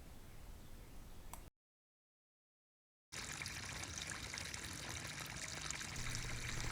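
Water trickles and pours steadily as it is siphoned out through a 1.5-inch hose into a yard, the flow briefly cutting out before resuming and running continuously.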